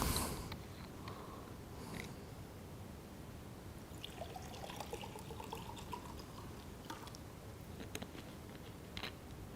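Drinking water is poured quietly into a container in a hushed room. The soft trickle comes in short runs through the middle of the clip against low background hiss.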